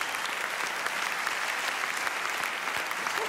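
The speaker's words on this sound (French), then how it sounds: "Bon, on peut les applaudir" A comedy festival crowd in Liège claps loudly and continuously, forming a thick, even wall of applause that lasts throughout with no voices.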